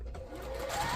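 A sewing machine runs steadily, stitching a quarter-inch seam on a placemat, its motor whirring close and continuous with a pitch that rises slightly as it speeds up.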